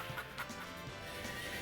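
Chickens clucking in the Sunset Riders arcade game, a brief burst of busy, continuous fowl chatter blended with game sound.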